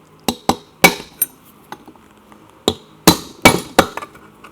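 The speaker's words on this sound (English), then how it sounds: "And give it a little tap. See if it breaks loose off the taper." A hammer taps a part loose from a taper on a Triumph Tiger Cub motorcycle in a workshop, giving about a dozen sharp metallic knocks in irregular clusters with quiet gaps between.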